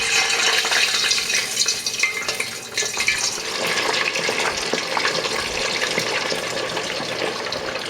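Chicken wings going into hot peanut oil for salt and pepper wings, a loud steady sizzle and bubbling hiss that keeps crackling throughout with no talk.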